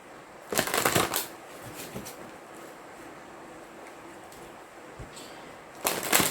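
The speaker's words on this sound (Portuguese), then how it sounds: "Vou tirar mais algumas cartas." A tarot deck shuffled by hand, with two quick riffling bursts at the start and end separated by a quieter stretch. The sound is close and there is no talking.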